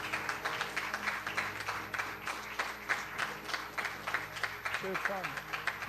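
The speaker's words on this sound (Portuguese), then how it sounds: "Você pode aplaudir o Senhor em nome de Jesus." Congregation at a church service clapping in a steady, rhythmic beat, close and continuous, with musical tones and voices mixed in beneath.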